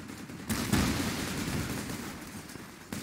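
Sustained gunfire in the Project Reality military game, a dense rattling volley starting about half a second in and continuing steadily to the end, moderately loud with no talk over it.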